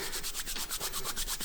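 Hands rub dried hemp plant material briskly back and forth, producing a rapid, even rhythm of close, dry scratchy swishes with no talk.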